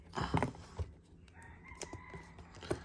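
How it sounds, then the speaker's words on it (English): Feral chickens in Hawaii cluck nearby in short bursts, then a rooster's drawn-out crow rings out, with more clucks around it. "Hawaii has like a lot of feral chickens, and they love to make noise"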